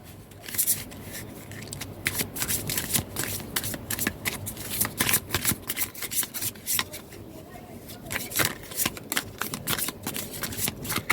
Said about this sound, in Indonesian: Kita pakai kartu ini ya, kita ambil 3.